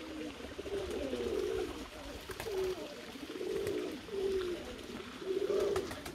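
Ornamental pigeons cooing inside a loft: repeated low, throaty coos in rolling phrases, fairly close, over a steady background hum.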